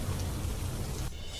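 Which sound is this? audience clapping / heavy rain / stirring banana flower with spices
heavy rain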